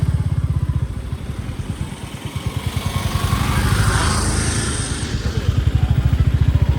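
A motorcycle rides on a road past queued cars en route to Srisailam through the Nallamala forest, its engine a loud, rapid, even thumping close by with wind rush rising and falling.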